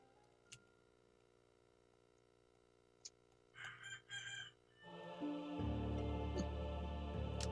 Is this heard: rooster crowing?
yes